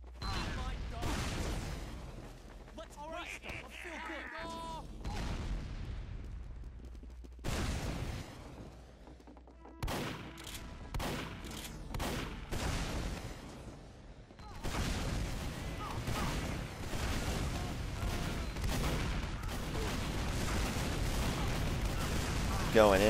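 Rocket explosions and weapon fire in a competitive Team Fortress 2 match on cp_snakewater, repeated bursts and booms scattered through the scene, with a commentator talking over much of it.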